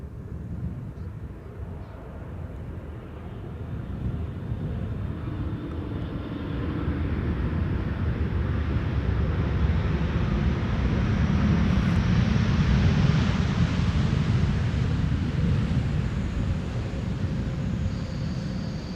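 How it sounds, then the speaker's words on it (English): A KLM Boeing 747 on approach to land at Amsterdam Schiphol in a crosswind, a broad jet roar that swells louder through the middle and stays heavy to the end, heard from the ground with no talk. "This is KLM Flight 668 arriving from Austin, Texas"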